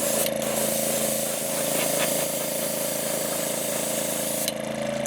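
White base-coat paint is sprayed onto a deep-diving fishing lure in a steady, loud, continuous hiss with a constant hum under it, running without pause and dipping briefly near the end, with no voices.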